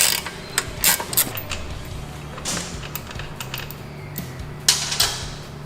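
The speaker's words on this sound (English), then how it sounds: "You can loosen up your axle adjusters here." Wrench ratcheting and metallic clicks while loosening the axle adjusters on a Harley-Davidson Sportster being built into a hardtail chopper, with short bursts of clicks separated by quieter pauses and a low hum underneath.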